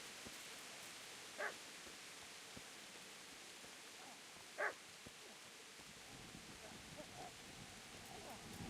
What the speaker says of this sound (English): Sounds like somebody's got a dog over here.